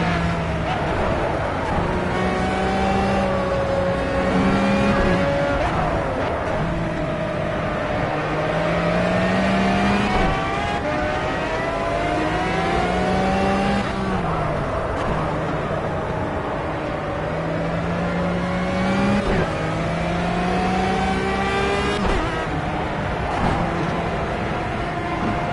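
Race cars lap the Nurburgring during a 2-hour race, engines rising and falling in pitch as they pass one after another, loud and steady throughout, with a voice faintly under the roar.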